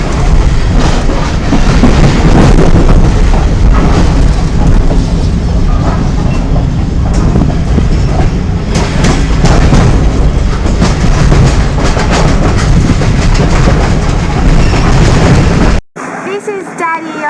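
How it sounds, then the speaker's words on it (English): Steady loud rumble and rattle of a moving train leaving Colombo for Kandy, heard from inside a carriage, continuous clatter for most of the clip before cutting off abruptly near the end. "This is Daddy on the train to Candy."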